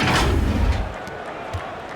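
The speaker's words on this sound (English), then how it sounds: "And Ball slams it in." A basketball slam dunk in an NBA 2K video game, Chicago Bulls against the Oklahoma City Thunder, lands as a loud thudding slam at the start with crowd noise, then fades into a quieter arena background.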